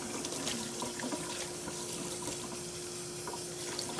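Lukewarm tap water runs steadily from a faucet into a sink, soaking a shirt for bleach tie-dye; a constant close rush of flowing water with a faint steady hum, no talking.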